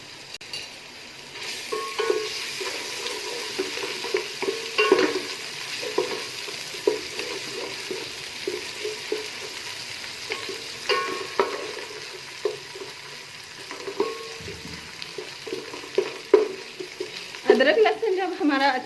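Crushed ginger and garlic sizzling in a pan of cooked chicken fried rice base, with steady frying hiss, scattered clinks and scrapes of a stirring spoon, and louder clatter near the end.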